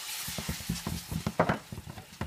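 Sugar and fish sauce are stirred in a frying pan with a utensil, giving quick rhythmic scraping taps and a faint sizzle, close and moderately quiet, with no talking.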